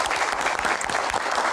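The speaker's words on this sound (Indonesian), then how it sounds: "Tepuk tangan para panelis." A hall audience applauds panelists at a Q&A event with a steady, dense roar of clapping that continues unbroken through the brief moment.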